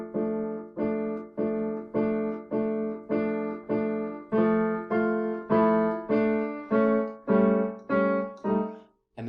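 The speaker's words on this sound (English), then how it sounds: "play these opening chords on the piano" Piano chords struck in a steady, repeated rhythm, about a dozen sustained chords in a row, each decaying before the next, played alone and fairly loud.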